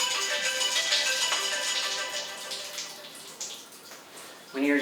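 Water from a shower pours steadily in a close, continuous broadband hiss for about five seconds, with a brief louder splash at the end.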